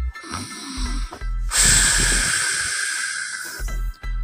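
A man snores loudly, a long rasping inhale followed by a breathy hiss, with shorter snorting breaths before and after.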